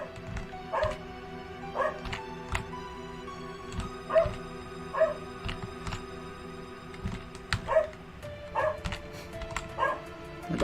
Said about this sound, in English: I can never go one marathon without my dog going crazy